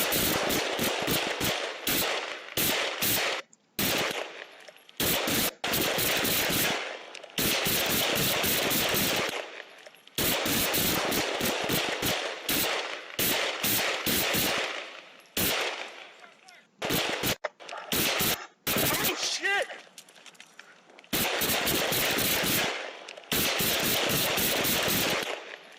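A police officer fires multiple rounds during a Denver officer-involved shooting: loud, rapid bursts of gunfire in repeated volleys, separated by short gaps, close and harsh throughout.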